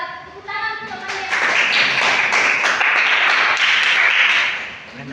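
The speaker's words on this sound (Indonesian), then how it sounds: "Tepuk tangan untuk temannya." A classroom of students breaks into applause for classmates coming up to present, a dense, loud burst of clapping lasting several seconds before fading, with a voice briefly heard at the start.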